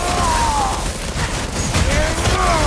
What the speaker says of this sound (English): Incoming fire!